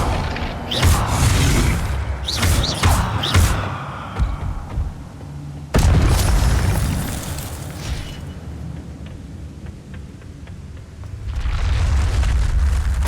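A spell-casting barrage from Hogwarts Legacy, including the Incendio fire spell, erupts in loud booming bursts and whooshing roars, repeated several times with heavy low rumble and no talking.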